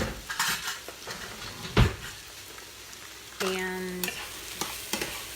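Onions frying in a pan at turned-down heat, a steady soft sizzle with a few utensil clatters and scrapes of stirring, and one brief spoken word over it.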